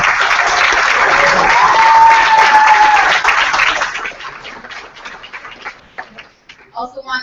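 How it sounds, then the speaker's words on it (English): An audience at a coder summit applauds steadily for several seconds, then the clapping thins out into scattered claps and a few voices. "so let's give them a round of applause."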